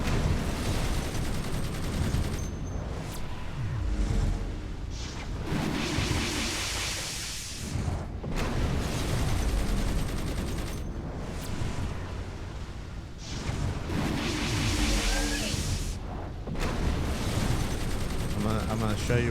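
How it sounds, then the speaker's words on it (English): Combat in the game Indepth Munitions with shrapnel grenades and chain gun fire: a dense, continuous barrage of rattling shots and explosive bursts, loud throughout with periodic surges, and no clear speech. "So it's just shrapnel grenade, chain gun, I-beam, small package,"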